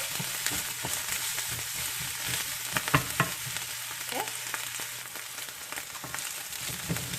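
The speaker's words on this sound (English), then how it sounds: "you want to brown this, the lemongrass and the garlic." Chopped lemongrass and garlic fry in a pan, browning for a Vietnamese noodle soup, with a steady close sizzle and occasional stirring scrapes throughout.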